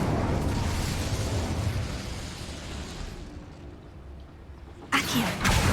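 The Incendio fire spell in Hogwarts Legacy erupts in a loud, roaring burst of flame that rumbles for a few seconds and fades, then a second sharp blast cuts in near the end.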